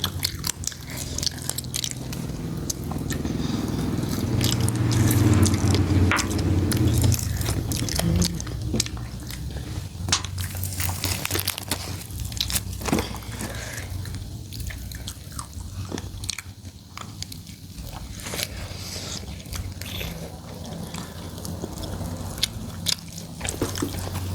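Crunchy fried chicken, eaten with spicy Lao-style papaya salad, is bitten and chewed close up, with repeated sharp crisp crunches and wet chewing over a long stretch.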